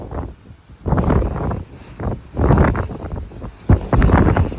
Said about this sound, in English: So we have very, very heavy winds here.